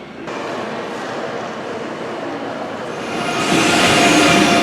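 A train rumbles loudly past a station platform in Koblenz with a steady roar, swelling louder and brighter near the end, close by and without talking.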